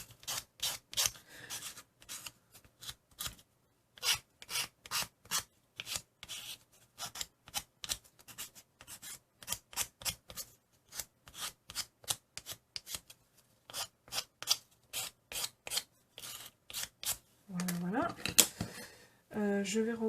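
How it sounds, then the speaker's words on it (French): A hand file rasps around the edge of a wooden tag in a run of short, dry strokes, some quick and some spaced apart, close and fairly quiet. A voice speaks briefly near the end. "je vais prendre une limangue basique, hein, celle-ci est en bois, et je vais limer tout le tour"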